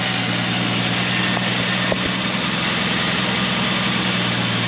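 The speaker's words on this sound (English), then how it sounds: "I think we're going to let her sit here and idle for a little bit." A 50-year-old Volvo 164E engine idles steadily after sitting for 20 years, its low, even drone running unbroken and loud.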